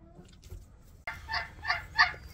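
Turkeys gobbling at a farm near an Eggmobile poultry trailer, three bright rising calls in quick succession after a quieter stretch of faint bird noise, fairly close and clear with no talk.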